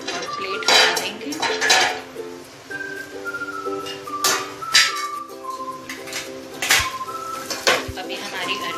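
A metal plate cover clatters and clinks against a cooking pan of deep-fried arbi as it is lifted off, several sharp metallic knocks and scrapes close by, with a voice talking over them.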